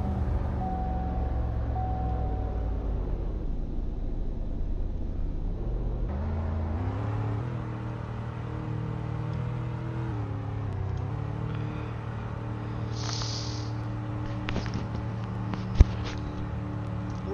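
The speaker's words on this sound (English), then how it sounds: "Now that my truck is registered, let's drive the truck." Trail Boss truck driving in the Roblox game Greenville: a steady engine drone that shifts pitch partway through as it picks up speed, then holds a constant cruising hum, with a brief sharp click near the end and no talking.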